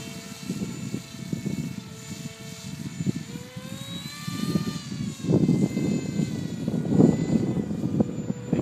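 A small RC model F-35 airplane's motor whines and climbs in pitch as it speeds away, over rumbling wind and handling noise.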